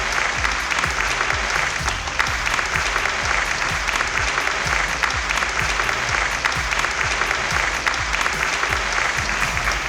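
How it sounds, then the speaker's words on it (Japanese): A large audience at a Japanese advertising awards show applauds as presenters walk on stage, dense sustained clapping filling the hall at a steady loud level throughout. "拍手でお迎えください。"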